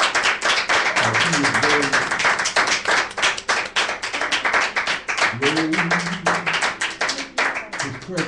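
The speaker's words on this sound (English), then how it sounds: "give your Father a hand clap of praise" A church congregation claps in praise during a worship night, loud rapid repeated hand claps filling the stretch while voices speak and call out over them.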